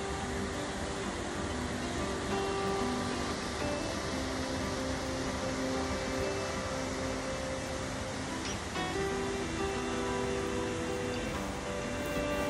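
Öxarárfoss waterfall in Thingvellir, Iceland, pours over dark rock in light rain, producing a steady, soft broadband rush that stays constant and fairly distant, with no voices.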